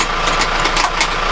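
A tractor engine running steadily on a sheep farm, a loud close rumbling drone with throbbing pulses, heard from inside the cab.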